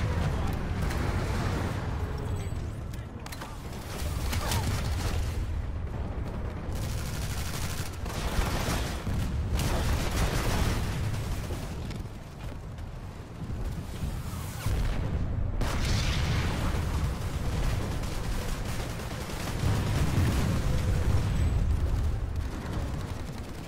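Repeated blasts and bursts of gunfire from grenades exploding in the sci-fi shooter game PlanetSide 2, a dense, continuous battle din of booms and shots running loud throughout.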